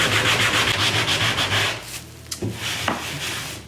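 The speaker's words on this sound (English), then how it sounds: "we're going to start off by sanding around this." Drywall around a hole is sanded by hand with rapid back-and-forth rasping strokes, close and fairly loud, then it stops, leaving a few light knocks and handling noises.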